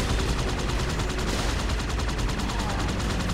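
Rapid automatic gunfire from an enemy Grunt in Halo 2 Anniversary, a dense continuous rattle of shots filling the whole moment with no pauses, loud and busy.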